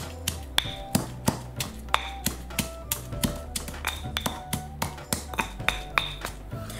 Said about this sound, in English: And now you can pound this as fine or as coarse as you would like it